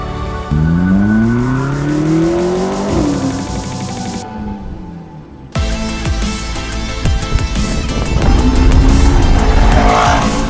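A McLaren's 650-horsepower twin-turbo V8 screams at high revs up to 8,000 RPM, climbing through gears, then cuts briefly before roaring back at full power with tire noise.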